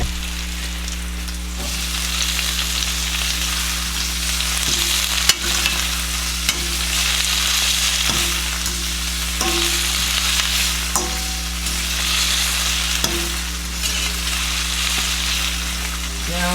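Onions and red peppers fry in a pan with a steady, loud broadband sizzle that runs throughout, broken by occasional scraping stirs, a low steady hum beneath, and no voices.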